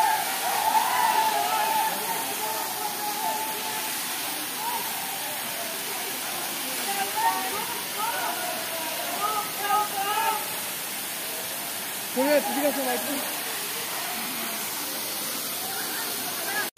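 The Saika (Tuisoi) waterfall in the hills of Tripura pours as a constant broad roaring hiss, close and steady throughout, with faint voices occasionally rising over it.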